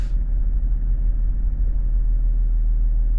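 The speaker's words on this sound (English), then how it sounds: "I can hear the compressor come on in the back." Range Rover L322 air suspension compressor running at the rear, a steady low motor drone with constant hum, close and continuous with no talking.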